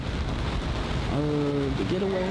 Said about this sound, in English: If you can hear in the background, it's raining